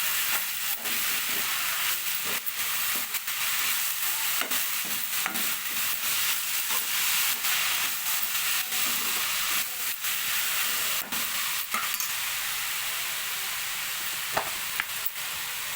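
Chopped tomato pieces cook in a pan with a continuous close hiss and sizzle, broken by brief scrapes and taps as they are stirred together.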